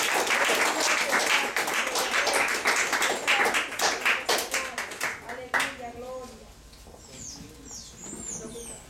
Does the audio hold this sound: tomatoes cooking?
no